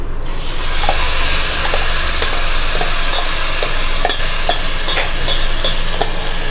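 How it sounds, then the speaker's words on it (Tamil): Marinated mutton frying in ghee over medium heat sizzles loudly and continuously, with repeated scraping taps from a spoon stirring the pan, close and without any talking. "மட்டன் வந்து நெய்யில் வந்து மிதமான தீயில் நல்லா 5 நிமிஷம் போல் வதக்கணும்"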